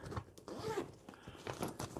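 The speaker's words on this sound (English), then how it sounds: "Zipper here on the inside" A zipper on an inside pocket of an AER Travel Pack 3 backpack slides open in a few close, raspy pulls with short pauses between them, heard alone with no talking.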